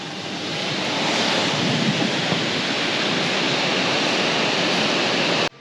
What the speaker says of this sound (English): now check out this waterfall. This one right here is called Bridal Veil Falls.